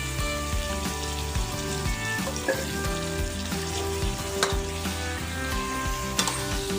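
Chicken offal stir-fried with curry paste in a hot pan, sizzling loudly and continuously while a utensil scrapes and stirs in a steady, repeated rhythm, with no talking.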